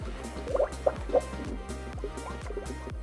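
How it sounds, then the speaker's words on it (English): Coolant pours through a no-spill funnel into a Subaru Impreza radiator, giving soft liquid gurgles and drips with a few brief bubbly bursts as air escapes, close up and fairly quiet. "Fluid's going in, air's coming out"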